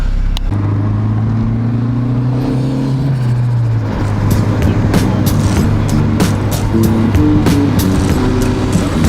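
A turbocharged RSX Type S engine with an open downpipe idles and drops, then a rapid series of sharp exhaust pops and crackles rattles out over the rumble.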